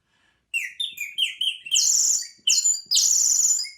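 A handheld bird whistle blown to mimic a nightingale, giving a run of bright chirping phrases: short rising tweets, then longer warbling trills, loud and close with brief pauses between bursts.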